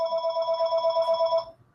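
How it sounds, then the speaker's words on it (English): A mobile phone rings indoors, a bright repeating electronic trill pulsing evenly for about a second and a half before cutting off into near silence. "If you hear any ringing, that's just my phone."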